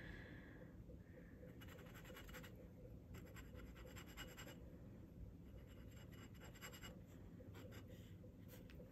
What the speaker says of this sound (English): This scratchy feeling on the paper is giving me the ick.